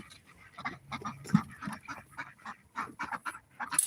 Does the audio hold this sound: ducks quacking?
yes